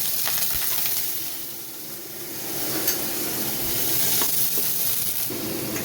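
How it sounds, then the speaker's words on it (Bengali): Chhana (cottage cheese) frying in hot ghee gives a steady, close sizzle, with a few soft pops and stirring clatters over the continuous hiss. "এবার এই ঘিটার মধ্যে ছানাগুলো একটু ভেজে নেবো।"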